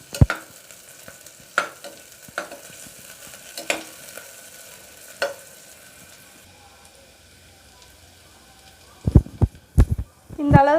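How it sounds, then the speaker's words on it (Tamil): Large onion sautéing in hot sesame oil in a pan, with sparse spatula clicks and scrapes over a faint sizzle, then a burst of louder stirring and a voice near the end. "இப்போ நம்ம எடுத்து வச்சுருந்த பெரிய வெங்காயம் 1 போட்டுடலாம். இதை இப்போ நல்லா வதக்கிடலாம்."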